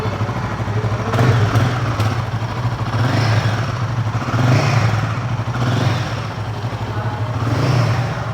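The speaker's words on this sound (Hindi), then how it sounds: "आइडियल कंडीशन पर इंजन साउंड सुनिए" Royal Enfield motorcycle engine idling with a low, throbbing exhaust thump, swelling in a few brief revs before settling back; mechanical clatter in between, no talking.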